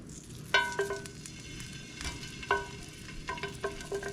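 Onions caramelizing in a pan for beef tips, a steady low sizzle of frying with a few sharp scraping stir clinks over it, close and moderate in level.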